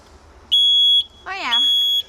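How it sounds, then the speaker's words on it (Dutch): A household smoke detector sounds loud piercing electronic beeps at close range, one long tone and then another, with a voice briefly calling out between them. "Nou, en die reukmelder die waarschuwt hij dus als de brand in huis is"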